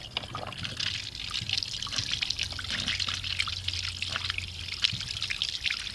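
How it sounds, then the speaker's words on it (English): A garden hose feeds a Polaris pool cleaner whose jets spray water in a steady, moderately quiet hissing trickle that runs continuously without pause. "You can see all the jets shooting water out."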